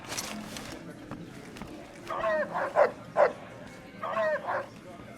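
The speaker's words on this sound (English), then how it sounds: "Where did you get that robot dog?" A robot dog barks in Fallout: New Vegas, two short clusters of sharp yips in the middle and near the end, with game dialogue heard before them.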